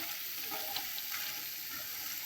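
Punugulu batter fritters fry in hot oil, giving a steady, faint sizzling hiss with soft bubbling pops throughout, heard alone at close range.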